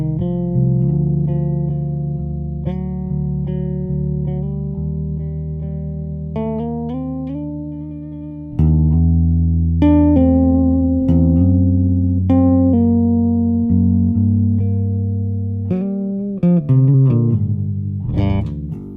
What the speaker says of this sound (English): You can take your instrument and hit a note.